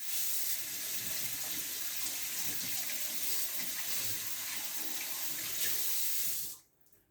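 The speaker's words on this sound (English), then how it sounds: "I'll wash my hands again." Tap water runs steadily into a kitchen sink during hand washing amid family meal prep, a continuous close hiss that stops abruptly near the end.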